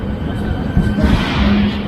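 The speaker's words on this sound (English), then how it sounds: "Nice looking train." A steady low rumble of a train with a faint metallic whine, loud and close, like standing beside rail cars on a platform, at a station in the Czech Republic.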